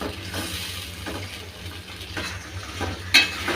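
Potato, spices and dried fish being sautéed together on low heat, a steady soft sizzle with faint scraping stir strokes and a brief sharper clink near the end, close by with no talking.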